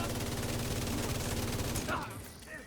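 Turrets firing in a shooter video game, a dense continuous rattle of automatic fire that fades out toward the end, with a player speaking over it.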